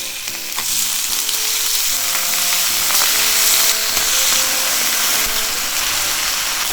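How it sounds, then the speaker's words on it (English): Meat slices for sukiyaki sizzle steadily and loudly in a hot pan with frying oil, with occasional clinks of utensils stirring. "And then I'm going to put some slices of meat."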